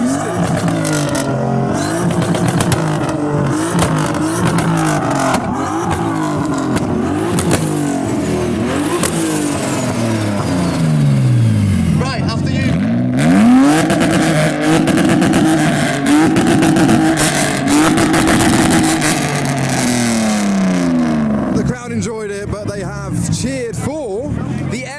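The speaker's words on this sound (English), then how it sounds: "we have the Pandem body kit drag racing E46 versus another. This has got a massive single turbo." A Pandem body-kit BMW E46 drag car with a massive single turbo accelerates hard through its gears, its loud, close engine rising and falling in sweeping revs on a street in England, with talk over the top.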